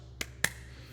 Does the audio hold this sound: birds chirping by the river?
no